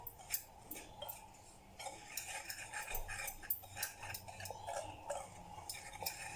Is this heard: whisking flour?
yes